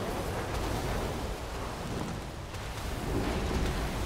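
A World of Warcraft thunderstorm spell effect gives a steady, dense roar of rain and rumbling thunder, swelling slightly toward the end with no voices.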